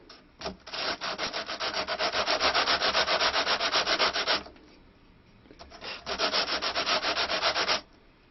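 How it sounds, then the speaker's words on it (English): Fret ends on a stick dulcimer fingerboard rocked at a slight angle against sandpaper clamped to a flat board, making two long, steady bursts of close, loud rhythmic rasping separated by a short pause. "lay this against some sandpaper that's been clamped to a flat board, and we're just going to rock it at a slight angle"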